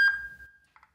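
An outdoor alarm siren beeps, holding a steady electronic tone for about half a second, followed by a pair of short, quick beeps, clear and close.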